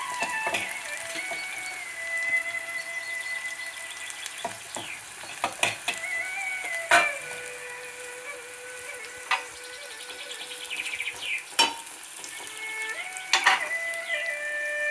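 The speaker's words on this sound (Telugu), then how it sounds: "ఇప్పుడు ఇక్కడ నూనె పెట్టుకున్న తవపడ చూడండి, చాలా క్రిస్పీ వచ్చేస్తుంది" Bitter gourd frying in oil on a hot tawa, a steady close crackling sizzle throughout with occasional sharp pops and stirring clatters, no talking.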